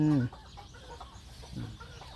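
Chickens clucking at a farmhouse garden, a close rising cluck at the start and softer clucks later over steady outdoor background noise.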